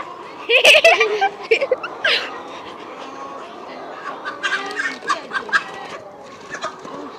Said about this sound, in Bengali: এই দেখো এই মুরগিটা পালাচ্ছে।